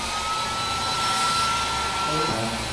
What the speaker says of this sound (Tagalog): Ginagamit na niya yung blower namin.